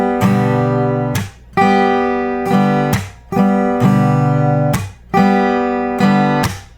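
Acoustic guitar played in a percussive strum pattern, ringing chords alternating with sharp muted chuck hits in a steady repeating rhythm, close and loud with no talking.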